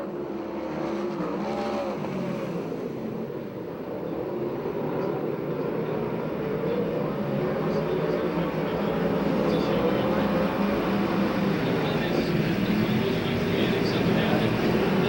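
USAC/CRA sprint cars race in a heat at Perris, California, their engines blending into a continuous, loud, buzzing roar of several cars circling, with an announcer's voice running beneath the drone.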